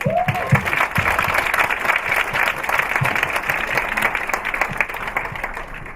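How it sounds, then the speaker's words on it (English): An audience at a grade 12 graduation ceremony applauds the graduates with steady, full crowd clapping throughout, plus a few brief louder individual claps. "Let's give our graduates a big round of applause."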